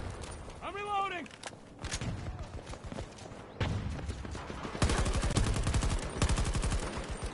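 Rapid automatic gunfire bursts in Battlefield 2042 on PS4 Pro, loud and close, with sustained volleys in the second half and a voice talking over the shooting.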